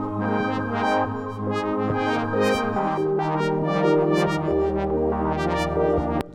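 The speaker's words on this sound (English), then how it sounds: "that bubbly thing is coming from this oscillator A, in which I'm modulating the wavetable position" A bubbly Serum 2 synth patch whose oscillator A has its wavetable position modulated, rapid burbling pulses over sustained chord tones and a bass line, playing alone and loud for several seconds.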